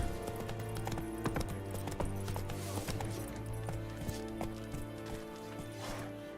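Horse hooves clip-clop steadily in The Witcher 3, a rapid, even rhythm of close hoof strikes over a continuous game music bed, with an occasional whinny and no talking.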